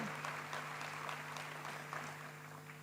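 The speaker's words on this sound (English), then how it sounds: "let's applaud them" Audience applause at a university graduation ceremony, faint and distant clapping from a hall under a steady low electrical hum, easing slightly toward the end.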